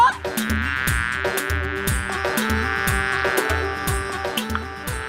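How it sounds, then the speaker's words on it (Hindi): A fly buzzes steadily and close throughout, its whining drone layered over rhythmic cartoonish musical backing with repeated plucked and thumping accents. "ये वही शैतानी मक्खी जिसने निचोड़ा था मुझे गीले कपड़े की तरह"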